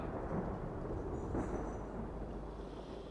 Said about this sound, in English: Can you hear that? The thunder.